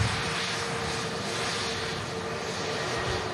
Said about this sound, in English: Next in, Saudi Dreamliner. Of course, coming in from Jeddah.